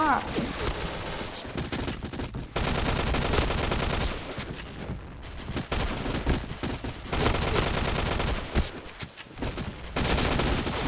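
In the shooter game Point Blank, an XM7 rifle fires in loud, dense bursts of rapid shots that run almost continuously, with only brief gaps between volleys.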